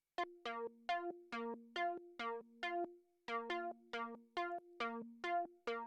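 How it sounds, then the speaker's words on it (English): A simple plucky square-wave synth layer with a filter envelope plays a run of short, evenly spaced bright notes, mostly alternating between two pitches with a brief gap midway, clear and alone with no voices. "And this one's even more simple. It's literally just a square wave."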